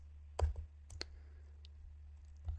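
Mouse clicks at a computer while working in a code editor, with a few sharp, quiet, close clicks scattered over a low steady hum, no speech.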